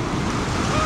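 Ocean waves at Volcano Bay water park in Universal Orlando, a steady loud wash of surf filling the whole moment, with wind noise over the microphone and no clear speech.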